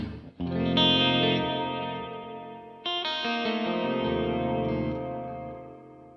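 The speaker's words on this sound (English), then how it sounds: "I press these two, I turn the spring reverb on" Electric guitar played through a delay with spring reverb switched on, two sustained chords ringing out one after another with echoing repeats and a splashy reverb tail, loud and alone with no talking.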